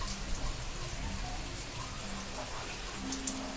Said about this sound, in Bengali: কত জোরে বৃষ্টি এসছে